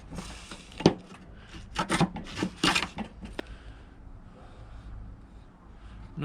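A bevel is worked onto the edge of a wooden plank while re-planking a wooden Tahiti gaff cutter: a handful of close, sharp rasping wood strokes in the first half, then a quiet, low room hum.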